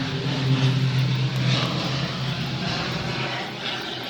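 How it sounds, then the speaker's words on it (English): A propeller airplane passes over near a naval base in Key West, its steady droning engine hum loud at first and slowly fading, with no talking. "Got an airplane flying over."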